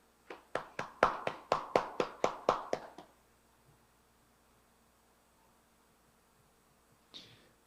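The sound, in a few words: audience applause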